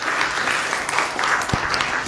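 A gathered audience at a talk breaks into strong applause, a full, continuous patter of clapping with a few sharper individual claps standing out, and no speech over it.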